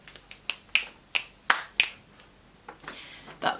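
Sharp claps from a person's hands, several spaced single hits in an irregular rhythm, close and fairly loud with no talking between them.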